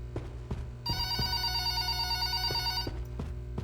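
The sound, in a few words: telephone ringing in a horror video game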